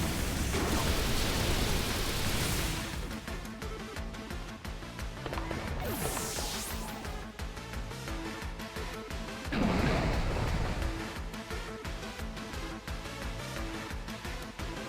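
Sandsear Storm move effect in a Pokemon Scarlet & Violet battle: a loud, roaring, rumbling sandstorm texture with whooshing sweeps and crashing swells, continuous and dense throughout.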